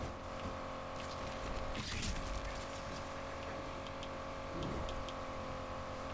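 A Bugatti Chiron tuned as a super-wide S+ class build cruises at high speed in Need for Speed Unbound, its steady engine drone running throughout with a brief whooshing surge near the two-second mark.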